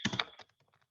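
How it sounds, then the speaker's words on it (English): Short burst of computer keyboard typing, a quick cluster of close key clicks entering a logout command, fading into a few softer taps. "type logout at the prompt to close the telnet session"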